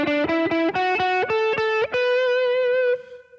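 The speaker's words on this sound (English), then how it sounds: "The third lick I want to give you is what I call the walk up, which is you're walking up the scale." Electric guitar with a chorus-and-drive tone plays a gospel walk-up lick, each note struck twice as the line climbs the scale in a steady rhythm, ending on a sustained note that rings out, played alone.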